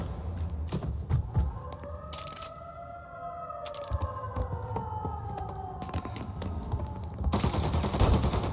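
Gunfire in the video game Mafia Definitive Edition, sharp scattered shots over a wailing rising-and-falling siren-like tone, with a dense burst near the end.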